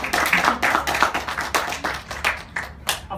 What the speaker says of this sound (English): Give me a big applause.